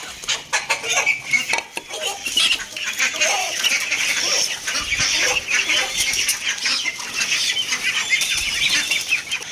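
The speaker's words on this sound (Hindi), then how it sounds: "वो देखे लड़ पड़ी डक्स आपस में, उससे छीन रहा" Ducks squabble over scraps of food, mixing busy quacking and clucking calls with wing flaps and scuffling in a dense, continuous near chorus.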